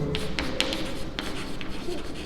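Pen scratching across paper while a maths solution is written out, short strokes and taps in an irregular rhythm, close and fairly quiet against a soft room hiss.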